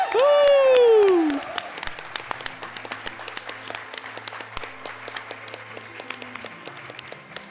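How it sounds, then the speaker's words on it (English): At a speedrun marathon event, a crowd applauds and cheers, starting with a loud whoop over the clapping. The applause then thins into scattered claps that continue under quieter sounds. "give Rivers a big round of applause before we get started on his run"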